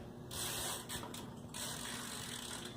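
A GRIT Freedom Chair wheelchair's drive ratchets steadily as the wheel spins freely and then engages, a close mechanical clicking that continues throughout with no talk.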